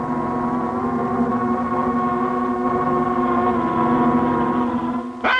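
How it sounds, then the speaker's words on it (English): Cartoon insect invasion swarm: a loud, steady, droning hum with layered tones like a massed buzzing of wings, unbroken for several seconds before a short sweeping rise at the end, no talking. "That's the sound of an insect invasion."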